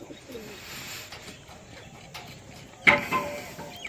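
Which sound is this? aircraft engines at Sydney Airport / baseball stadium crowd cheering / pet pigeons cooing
pet pigeons cooing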